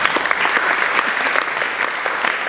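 Audience applause at the Green Coalition annual general meeting, a steady, dense wash of clapping from a crowd, sustained and fairly loud throughout.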